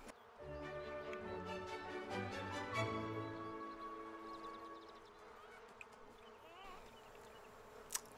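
Bees buzz in The Sims 4 life simulation game, a close, steady drone with layered tones that slowly fades, ending with a couple of faint clicks.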